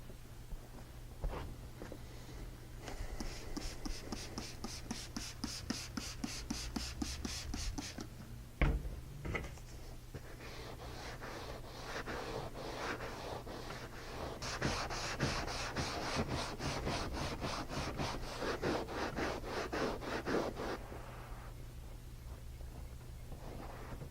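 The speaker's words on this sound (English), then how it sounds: "The scuff pad can help separate years of dirt and oils from the leather." A scuff pad scrubbing a worn, dirty leather car seat, quiet rhythmic back-and-forth rubbing in bursts with short gaps and a low steady hum underneath, close and fairly faint.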